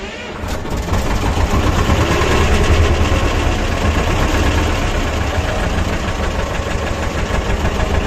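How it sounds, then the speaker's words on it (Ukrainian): An engine started in neutral without the decompressor, then revved slightly and left idling, a loud, steady, close mechanical drone with a knocking rattle that holds for several seconds with no break. "без декомпресора заводимо. Даємо трохи газу. Так. І запуск."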